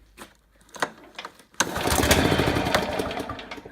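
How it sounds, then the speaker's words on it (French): A Husqvarna Royal 53 S petrol lawn mower with a faulty carburetor needle gets a few sharp pull-cord tugs, then its engine catches into a loud, rough, sputtering run close by. "dès que vous tirez sur le lanceur, vous avez le bruit du démarrage d'une tondeuse"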